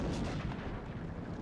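Heavy ship cannon fire in the Sid Meier's Pirates! video game, a dense booming volley of blasts rolling on continuously for a moment, loud and close with no other sounds.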